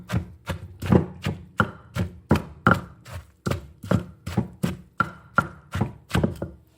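Chopped apple being pounded in a mortar, a run of about eighteen firm, regular thuds close up, the rhythm quickening slightly with no talk.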